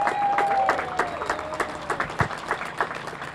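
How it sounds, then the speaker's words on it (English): Outdoor crowd clapping at a Cape Verdean flag raising ceremony after a rain delay, scattered uneven applause with distinct individual claps, moderately loud and steady throughout. "So give yourselves a round of applause."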